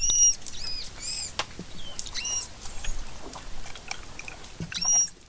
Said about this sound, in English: What you just heard is the insanely high-pitched squeal of the West Indian